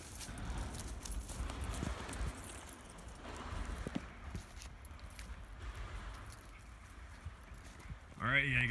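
A pack horse walks a wilderness trail, its hooves clip-clopping faintly and steadily under nearby talk and outdoor noise.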